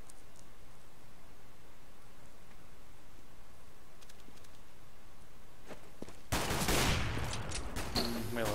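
Sudden loud burst of rifle fire in the Counter-Strike video game, a rapid crackling volley in the last seconds after a stretch of quiet background noise and faint footsteps.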